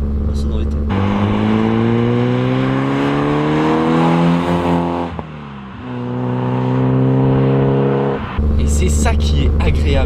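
A loud car engine with a stainless steel exhaust revs up through rising gears, dips briefly, climbs again, then cuts to a throaty idle, with a raspy exhaust note throughout.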